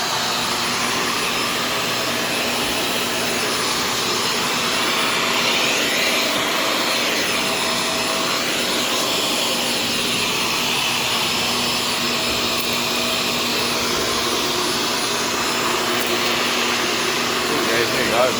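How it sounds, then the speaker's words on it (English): A Shark Stratos vacuum cleaner runs steadily indoors with a loud, continuous whooshing whine and a faint high tone, unchanging for the whole stretch. "let's see what we're able to achieve on our own with this vacuum"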